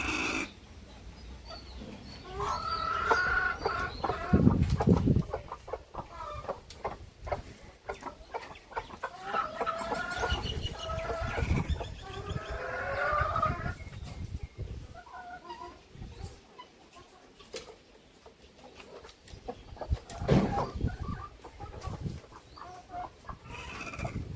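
Native country chickens clucking on a farm, several birds calling near and in overlapping bursts over a low background murmur.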